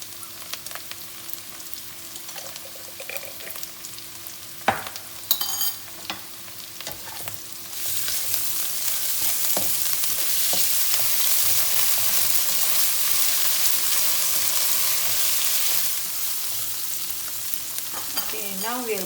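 Garlic fries in a pan while being stirred, with scraping and tapping at first, then a loud, steady sizzle that swells and holds before easing near the end.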